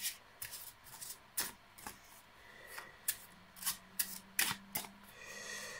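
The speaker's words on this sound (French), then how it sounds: "il peut remélanger éventuellement le jeu" Playing cards being shuffled by hand up close, a bevelled magic deck riffled and slid in quick crisp flurries of papery snaps and rubs, with no voices.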